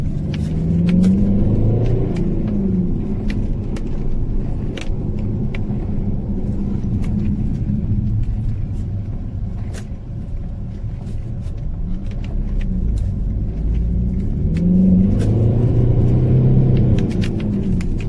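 Car on Uniroyal Rainsport 5 tyres during a test drive, a steady loud interior road rumble with engine tones rising and falling as it accelerates, plus occasional small clicks and knocks.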